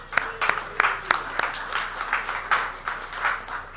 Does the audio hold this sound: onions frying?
no